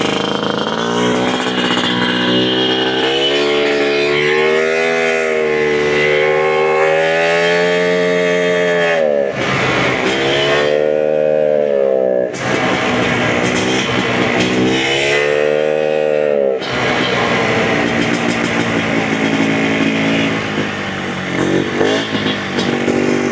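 A Polaris TrailBlazer 250 ATV engine runs loud and close, revving up and down in repeated pulls with a couple of brief drops in between.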